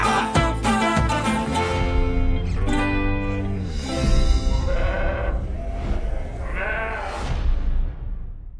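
Sheep bleat repeatedly and close by, wavering calls overlapping one another in a loud, continuous chorus.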